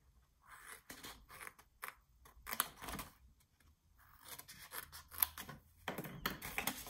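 Scissors snipping paper for a coin envelope craft project, close and quiet, with several separate cutting strokes in two bursts and a brief pause between them.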